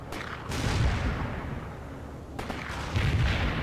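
Grenade explosions and gunfire in the war strategy game World in Conflict, with heavy booming blasts and crackling volleys layered in a continuous loud barrage, two sharper bursts punctuating the din.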